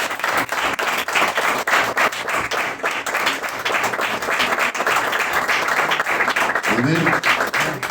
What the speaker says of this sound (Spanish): Vamos a dar un fuerte aplauso al Rey de Gloria.